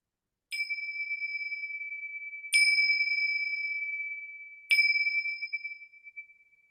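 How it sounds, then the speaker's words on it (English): Three separate strikes of a meditation bell, each a bright clear ring that lingers and slowly fades into silence, spaced about two seconds apart with no talking. "I'm going to use my bells."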